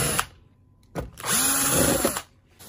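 A power screwdriver drives out screws during disassembly of a rice cooker that powers on but will not heat, giving two short whirring bursts followed by a longer steady run, close and loud with no talking.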